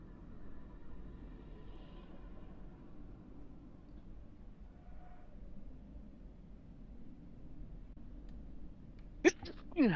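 One sharp, sudden sneeze near the end of a quiet indoor tabletop role-playing game session, preceded by low room hum and soft, distant murmuring voices.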